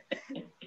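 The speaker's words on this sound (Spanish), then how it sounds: "Me emocionaron y me dio la tos." A few short coughs, three quick bursts in under a second, from a participant at a film discussion forum, fairly close and with no talking over them.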